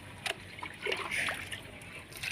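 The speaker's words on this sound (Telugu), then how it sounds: "కొంచెం కొంచెం మొదట్లో పోస్తున్నాను" Liquid mixture poured a little at a time onto the soil at the base of chili plants in a home garden, producing soft intermittent splashes and trickles close by.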